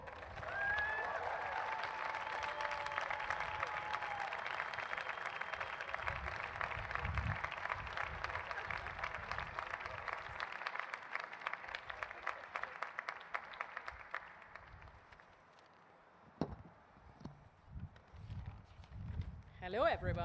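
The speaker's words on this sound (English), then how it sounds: "Please give your hardest applause for the 14th edition Valedictorian." Graduation ceremony audience at a football business academy applauds the valedictorian with sustained, rapid clapping and cheering mixed with voices, which dies away partway through before a few louder sounds near the end.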